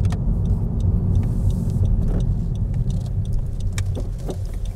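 A Honda Civic FK7 fitted with a custom air intake drives on a public road, giving a steady, loud low engine and road rumble with faint rattles above it.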